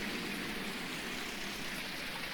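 Steady rain in Farming Simulator 19, a constant even hiss of falling drops with no breaks, moderately loud and close throughout.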